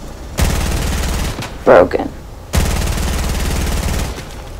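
Submachine gun fire in the video game Fortnite: two long, loud, rapid sustained bursts separated by a short pause, with a few spoken words in the gap.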